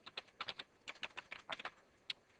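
Fingers type a Cisco router command on a computer keyboard, a close burst of quick irregular key clicks in small clusters with brief pauses, ending in one firm keystroke.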